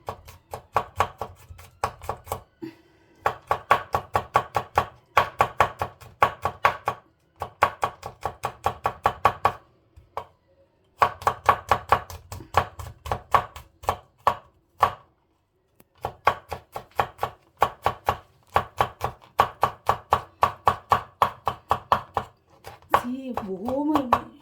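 Garlic being finely chopped with a knife on a board for bruschetta: rapid bursts of crisp, evenly spaced knocks separated by brief pauses, and a voice speaks briefly near the end.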